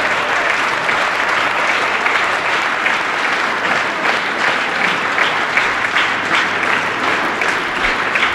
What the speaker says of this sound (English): Crowd giving him a nice ovation here.